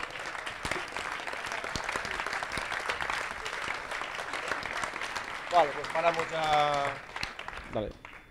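Audience at a maze-solving robot competition applauding in a steady, moderately distant patter; toward the end the clapping thins and a voice talks over it.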